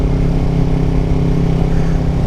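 A Triumph Trident 660 motorcycle engine runs at a steady, loud, close drone with an even throbbing tone that holds without a break.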